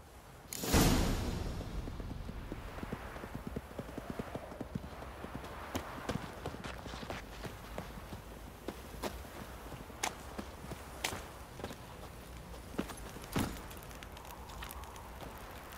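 Horse hooves clip-clop steadily on ground in The Witcher 3, a walking gait of close, crisp repeated hits with a few sharper strikes and a faint swish early on.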